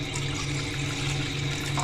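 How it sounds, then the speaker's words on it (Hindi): A cup of water is poured into a cooking pan, giving a steady, continuous splashing and rushing wash that stays fairly loud throughout with no speech. "सबसे पहले हम पैन में डालेंगे 1 कप पानी।"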